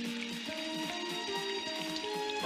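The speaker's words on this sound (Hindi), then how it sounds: "काश ये बारिश जल्दी से रुक जाए।" Cartoon rain patters steadily as a soft, continuous hiss of droplets, with light scattered taps under a background music tone and no voices.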